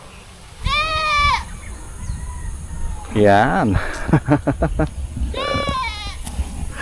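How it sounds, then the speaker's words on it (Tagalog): Goats on an organic farm in Calapan bleat loudly nearby, several wavering calls spaced apart across the stretch, with a person talking between and over them. "Ang dami siyang kambing dito."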